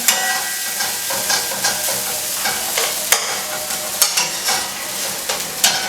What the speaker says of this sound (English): on low heat, I'm going to stir them together very nicely